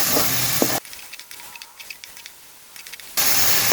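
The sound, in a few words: spice paste with ginger garlic paste sautéing in pan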